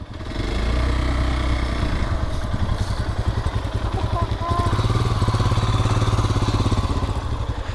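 A light motorcycle engine runs loud and close while off-roading on a Sunday ride by the Damodar river, with a rapid throbbing putter that rises and settles under the ride.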